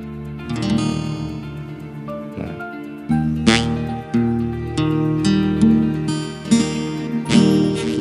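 An acoustic guitar chord is strummed several times in a row, each strum ringing out close and clear before the next.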